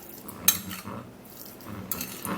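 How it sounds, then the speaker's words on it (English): A spoon clinks and scrapes against a bowl while brown sugar is stirred into potato juice for a homemade under-eye remedy, a few soft taps and one sharper clink, close and quiet. "And then we'll have to stir that up again."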